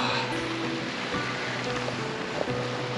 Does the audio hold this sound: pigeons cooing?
no